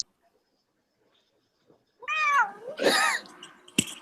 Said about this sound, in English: She always meows when I pick her up.